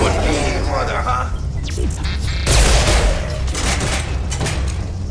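Bursts of gunfire from a firefight in Mass Effect 2 against mechs on a station, loud repeated shots and impacts with a heavy burst midway, while voices talk over the shooting.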